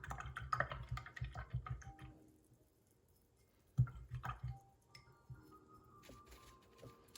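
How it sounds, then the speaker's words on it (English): A paintbrush being swished and rinsed in water during a children's painting class, giving quiet bursts of splashing, dripping and tapping against the container with a lull in between. "I'm gonna take my brush, I'm gonna wash it off."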